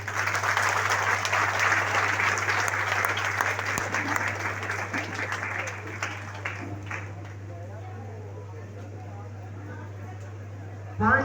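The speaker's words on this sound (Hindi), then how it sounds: "जोरदार तालियां।" Loud audience applause at a spiritual gathering, dense and sustained clapping that gradually thins out over several seconds, with a constant low electrical hum underneath.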